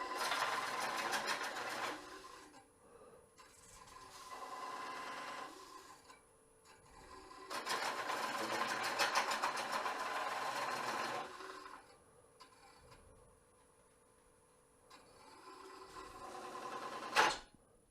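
A Woodcut Bowlsaver Max4 coring a wooden bowl on a lathe gives bursts of close, loud rasping and scraping cutting, broken by quieter gaps where it pauses, ending in a sharp knock.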